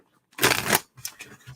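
Tarot cards riffle in a quick shuffle, one loud burst followed by a few softer shuffling flicks, close and alone.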